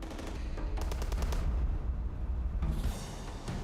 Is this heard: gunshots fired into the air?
yes